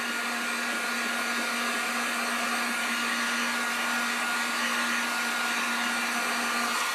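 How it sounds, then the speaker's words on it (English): Heat gun set to low blowing over wet acrylic paint on a spring sign, a steady close whooshing airflow with a faint constant hum, running alone and unbroken throughout. "I'm just taking the heat gun, low heat, and just running over this real quick with the heat gun"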